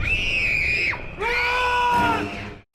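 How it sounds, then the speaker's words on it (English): A woman's piercing scream from the 2015 film Hidden, two long shrill cries separated by a brief gasping break, loud and alone before fading out. "Her scream is also, well, it's very piercing to say the least."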